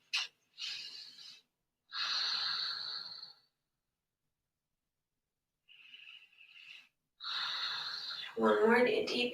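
Several deep, slow yoga breaths, each a long airy inhale or exhale with pauses between them, close and clear. The final breath runs into a spoken voice.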